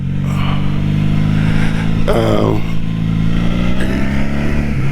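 A Honda Magna motorcycle engine runs at a steady idle, a constant close rumble with a brief rev partway through, and someone talks over it.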